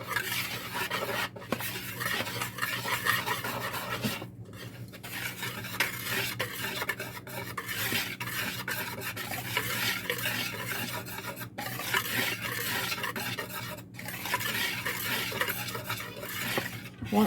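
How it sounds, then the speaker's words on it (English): A whisk stirs dry cornbread ingredients in a bowl, giving a steady, close scraping and swishing that runs without a break and with no talk, broken by a few brief pauses. "I'm just going to go ahead and mix them up really good with a whisk."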